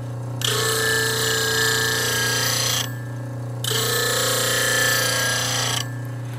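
A woodturning skew chisel is sharpened on a bench grinder, two steady passes of grinding separated by a brief pause, over the constant hum of the running grinder motor; fairly loud and close, with no talking.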